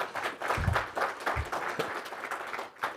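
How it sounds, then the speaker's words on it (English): Scattered, fairly quiet applause from an audience at a keynote on digital media measurement, with uneven clusters of claps and a few low thumps. "Come on, that was great applause, guys."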